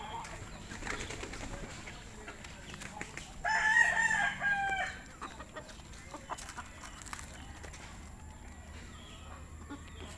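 A large rooster crows once, a single loud call of about a second and a half against a quiet outdoor background with faint ambient noise before and after.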